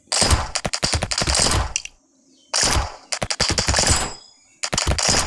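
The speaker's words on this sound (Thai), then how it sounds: "ปืนที่ดีที่สุดคือปืนกลเล็ก" A small machine gun firing in Brotato, an arena shooter; rapid bursts of sharp shots arrive in three loud clusters separated by short silent gaps, with no speech.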